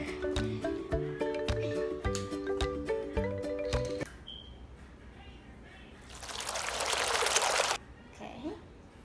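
Water pours into a slime mixture of glue in a short, hissing stream lasting a couple of seconds, after a plucked melodic tune ends, with faint background sounds.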